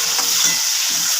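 Tomato hits onions already frying in a pan, giving a steady, loud, close sizzling hiss.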